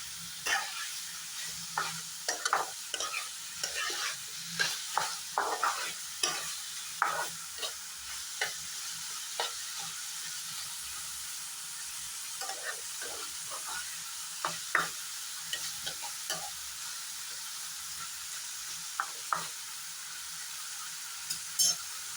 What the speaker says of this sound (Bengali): এখন গাজর আর আলুর সাথে আবার একটু ফ্রাই করে নেব।